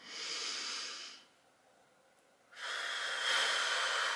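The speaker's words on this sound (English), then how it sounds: "Let's all take a deep breath together." A deep breath: a long, steady inhale and then, after a short pause, a longer exhale, both breathy and close to the microphone, with no talking.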